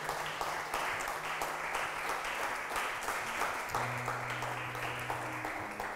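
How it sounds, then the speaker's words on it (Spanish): A church congregation applauds together in a loud, continuous roar of clapping. Sustained tones from an instrument or voices hum underneath, and partway through a low note swells. "Dale un aplauso grande a tu Dios."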